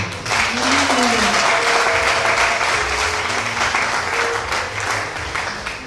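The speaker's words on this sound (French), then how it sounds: "Et je veux qu'on acclame Dieu pour Timbaba qui est là ce soir." A church congregation applauds loudly and continuously throughout, a dense wash of clapping from a large indoor crowd, with a voice and faint tones carrying underneath.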